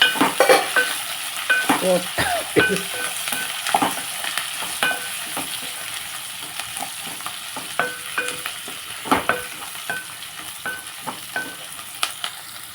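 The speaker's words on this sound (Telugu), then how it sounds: "పోపు పెట్టుకున్నాం ఇంకా పోపు బాగా వేసి" Spices tempering in hot oil for tomato upma crackle and sizzle up close, with frequent sharp stirring clicks and scrapes that are busiest early on, then settle into a steady fry.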